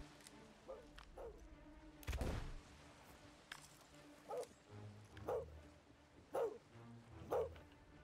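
A person imitates a dog, giving a series of short barks and yips spaced a second or so apart, fairly quiet and rhythmic, with one sharp louder burst early on.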